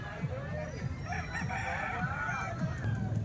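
Roosters and chickens at the Tuesday poultry market in Calumpit crow and cluck at close range over a steady murmur of market background.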